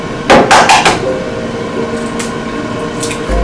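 A single egg cracked for a paleo pepperoni pizza recipe: several sharp, close cracking taps come in quick succession, followed by quieter kitchen background.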